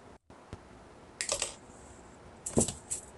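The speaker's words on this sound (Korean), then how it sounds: "분재 철사를 적당한 길이로 잘라줍니다" Bonsai wire being cut to length with a tool, heard as a couple of sharp metallic snips about a second apart in a quiet room.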